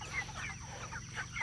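Chickens, roosters and hens in a farmyard pen give short, overlapping clucks and calls at close range over a steady low background hum.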